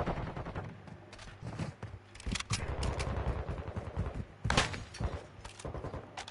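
Rapid bursts of gunfire from an online ranked match of the video game Call of Duty: Modern Warfare 2 crack in irregular clusters, with a few louder shots and thuds standing out against busy game noise.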